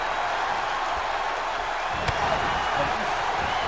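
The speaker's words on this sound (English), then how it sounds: "Loud crowd here in the O2 Arena here in London" Large arena crowd in WWE 2K20 at the O2 Arena in London, a steady loud wash of cheering and noise throughout with no clear breaks.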